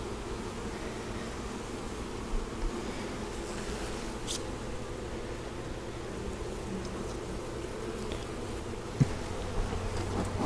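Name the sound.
honeybees buzzing during nucleus colony installation into hive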